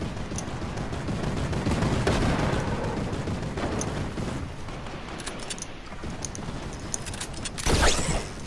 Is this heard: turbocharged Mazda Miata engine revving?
no